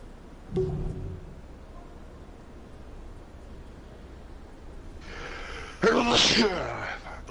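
A sudden sharp sneeze bursts out close to the microphone near the end, after an earlier brief breathy noise, over steady background hiss during a live PS4 game broadcast of Skyforge.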